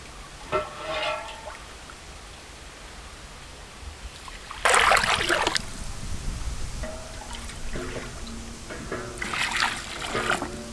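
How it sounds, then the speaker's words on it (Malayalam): Hot water poured into a pot of chicken masala for chicken maqluba, heard as two broad splashing, gushing bursts with a quieter trickle between them and no talk. "അപ്പം ഇതിലേക്ക് നമുക്ക് ചൂടുവെള്ളം ഒഴിച്ച് കൊടുക്കാം."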